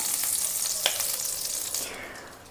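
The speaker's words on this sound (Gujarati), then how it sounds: "તો ઘી આપણે ગરમ કરવા માટે રાખી દેશું" Ghee melting and heating in a pan for a sweet, making a soft, close sizzle with light crackle and one stirring scrape, easing off toward the end, no voices.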